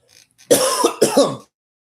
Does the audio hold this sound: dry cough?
yes